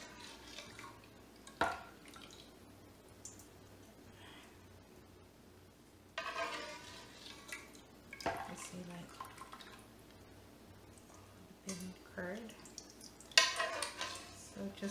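Soy milk for homemade tofu pours through a tiny kitchen strainer, with intermittent splashing and trickling bursts, drips, and light clinks of utensils against a bowl, with someone talking softly in between.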